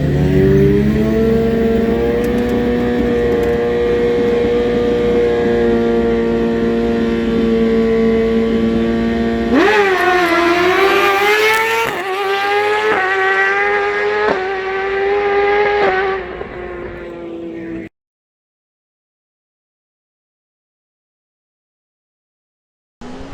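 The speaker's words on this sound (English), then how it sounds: "we just made the second pass on the 1000" A 2020 Suzuki GSX-R 1000 motorcycle makes an unrestricted drag strip pass, a loud steady high-pitched engine drone that climbs through several rapid gear shifts with rising pitch sweeps before cutting off abruptly into silence.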